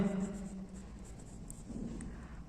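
Chalk or marker writing on a board during a class 10 science lesson, a soft scratchy scraping at close range with some faint background tones and no talk over it.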